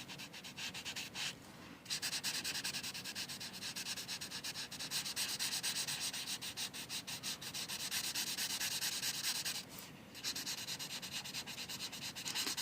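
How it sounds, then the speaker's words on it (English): Alcohol markers scratch and rub steadily across paper while colouring in tree silhouettes, a close, continuous scratchy stroking with brief pauses between passes. "I'm going to be colouring the silhouettes of the trees over the top of the background colour"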